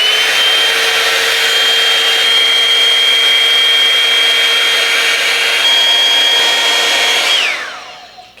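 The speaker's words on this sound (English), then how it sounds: "So only drying my hair right now" A GHD Duet Style hot air styler runs with a steady, loud whirring blow and a high whine while drying curly hair, continuous and close, then winding down and cutting off near the end.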